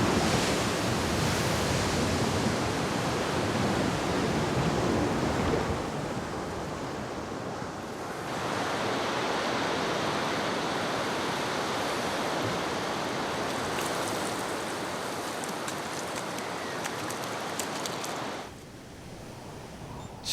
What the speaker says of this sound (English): For the squalls that whip up the sea as if urging the waves to play even louder.